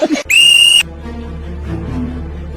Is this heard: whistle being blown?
yes